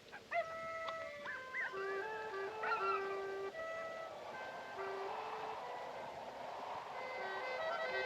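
Dogs howl at night in long wavering, overlapping tones, fairly distant and steady over several seconds against a faint background hiss, from a 1941 film soundtrack.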